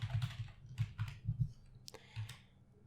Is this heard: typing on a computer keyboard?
yes